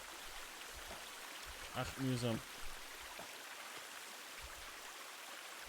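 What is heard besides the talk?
waterfall in The Forest video game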